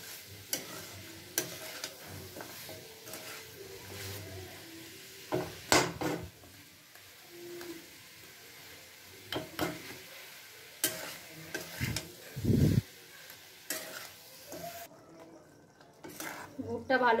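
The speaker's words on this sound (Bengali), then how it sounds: "গুড়টা আমি পুরো দিয়ে দিলাম এর মধ্যে, দিয়ে ভালো করে গুড়টা এর মধ্যে মিক্স করে নেব" A spoon stirs jaggery into a gooseberry pickle in a pan, making irregular scraping, soft sizzling and sharp metallic clinks of utensil against the pan, close up and intermittent.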